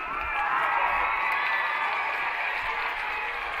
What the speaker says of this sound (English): You can hear the cheer of the crowd and the rattle of the bleachers as they jump up and down.